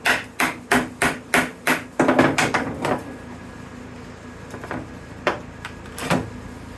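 A hammer strikes rock cutters wedged into a cured epoxy mold to split it apart: six sharp, evenly spaced metallic blows close up, then a rapid flurry of lighter taps, and a few scattered strikes after a pause.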